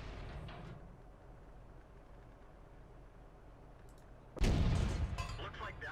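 A tank gun in the World of Tanks video game fires one loud, booming shot that cuts through a low ambient rumble and then rings out and fades.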